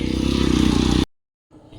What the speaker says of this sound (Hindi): तो आज हम बाइक के थ्रू ही जाएंगे